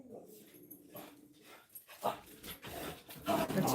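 A nearby dog whimpers and pants, then gives a few short barks toward the end, with fairly faint sounds at first that grow louder.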